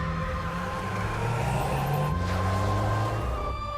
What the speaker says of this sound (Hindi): तू यहाँ क्यों गाड़ी घुमा रहा है?